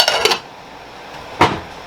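A lid set onto a cooking pan on the stove, with a couple of quick metallic clinks at the start and one more sharp clank about a second later, close and clear over faint background hiss.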